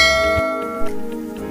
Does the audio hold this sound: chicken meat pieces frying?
no